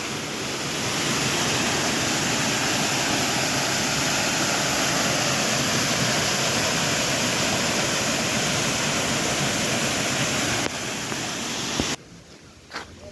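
Dense, continuous rushing water roars steadily beside a hiking trail in Shivapuri National Park, a broad hiss that holds for several seconds before cutting off abruptly into near quiet.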